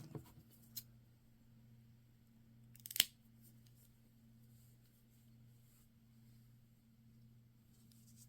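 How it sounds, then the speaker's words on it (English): A single quiet snip of scissors cutting yarn after crocheting a single crochet washcloth, heard once near the middle against a low steady hum, with a few faint handling ticks and no voices. "When you've reached your desired size, cut your yarn, leaving a 6-inch tail."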